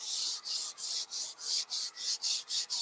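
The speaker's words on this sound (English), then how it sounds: "I'm just lightly sanding it" Rhythmic rasping strokes of sandpaper lightly sanding a painted antique wooden mantle finished in milk paint, about a dozen steady back-and-forth passes, close and even, with no talking.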